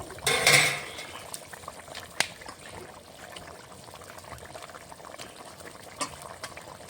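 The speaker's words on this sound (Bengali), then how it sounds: "ঝোলটা ফুটে উঠেছে" Rohu fish curry gravy made with ground green chilli simmering in a pot, faint steady bubbling after a brief louder hiss at the start, with a few soft clinks.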